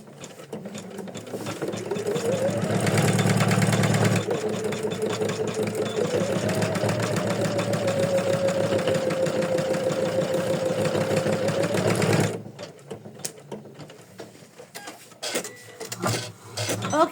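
An embroidery machine stitches in black thread for an in-the-hoop floral ornament or gift tag, running as a loud, steady whirring buzz for about twelve seconds before stopping, then giving way to quieter handling clicks.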